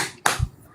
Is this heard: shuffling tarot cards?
no